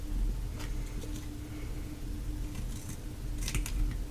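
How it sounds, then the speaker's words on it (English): Scissors snip through paper flower die-cuts overhanging the edge of a handmade card, a few crisp, close cuts over a steady low background hum. "I just kind of line up my scissors with the edge and then just cut straight."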